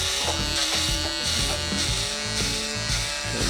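Electric shaver or clipper buzzing steadily and loudly throughout a mid drop fade haircut, a close continuous hum with slight shifts as the blade moves over stubble near the hairline.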